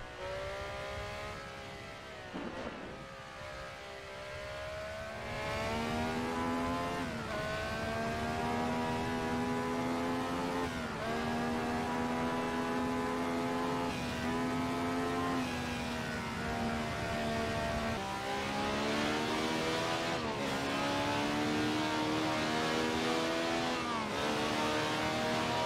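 A vintage prototype race car engine in a racing video game revs high and continuously, its whine climbing and dropping through repeated gear changes, loud and close with no talking.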